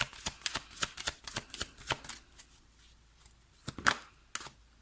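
Playing cards drawn and flicked from a deck at close range, a quick series of crisp papery snaps and slides, then a pause and a few more sharp flicks near the end, with no voices.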